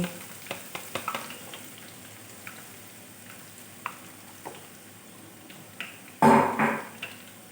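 Mihidana batter drops fall into hot oil over a lowered gas flame, giving a soft, steady sizzle dotted with small crackles and a brief louder burst of frying near the end.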